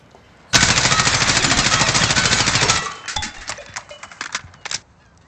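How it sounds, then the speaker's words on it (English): M4A1 rifle fired full-auto with a monolithic suppressor, a loud rapid burst of about two seconds followed by scattered sharp mechanical clacks. "Now we will try the monolithic suppressor."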